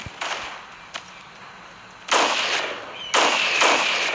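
Sharp gunshots from a sniper rifle in a Fortnite-like shooter game, two loud broadband cracks each followed by a ringing tail, with a few fainter shots and distant game noise in between.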